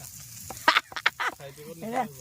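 Loud nasal duck quacks, several in a quick irregular burst close by, followed by a softer drawn-out call.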